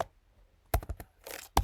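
Quick fingers typing on a computer keyboard: a brief burst of sharp close clicks after a quiet pause, then a softer clatter and one last key strike.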